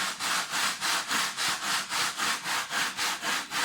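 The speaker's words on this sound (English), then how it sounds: "if you want to give it some sanding here to make it flush" Wood parts of a homemade park flyer model plane are sanded by hand in quick, regular back-and-forth strokes, close up and moderately quiet, with no talk.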